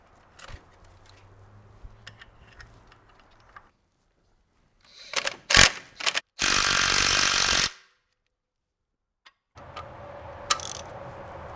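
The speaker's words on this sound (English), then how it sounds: "Torqued to perfection, as verified by the rubber handle ratchet" A rubber-handled ratchet tightens a bolt on a 1960 El Camino: a quick run of sharp clicking ticks, then a loud sustained mechanical burst, set between quiet stretches and faint workshop background noise.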